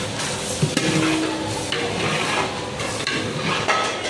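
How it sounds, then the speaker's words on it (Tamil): Chopped beans and carrots are stirred into wheat rava kichdi cooking in a large pot, a steady scraping and sizzling churn with a few sharp utensil knocks against the metal, continuous and fairly loud. "போட்டுட்டு நல்லா அதை கலக்கலாம்"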